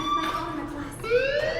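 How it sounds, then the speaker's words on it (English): A fire alarm in the video game Life Is Strange sounds a steady, moderately loud electronic tone with a rising warble near the end, under a game soundtrack or ambience. "Hey, do you hear that fire alarm?"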